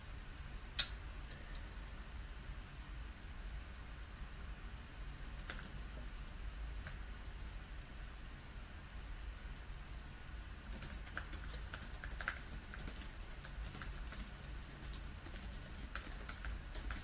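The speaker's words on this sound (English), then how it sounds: "I could type fast" Fast typing on a computer keyboard comes as faint, quick clicks scattered through a quiet room, growing busier in a short burst near the end, with no talking.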